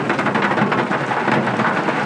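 Rain falls steadily in Kruger National Park, a dense hiss with low rumbling underneath that suggests distant thunder, with no voices.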